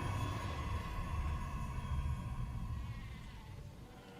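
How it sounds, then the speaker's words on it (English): A sheep bleats faintly in the distance, a wavering tone set against a steady low background rumble. "I definitely just heard a sheep."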